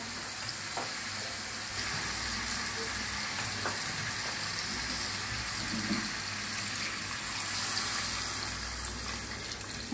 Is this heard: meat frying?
yes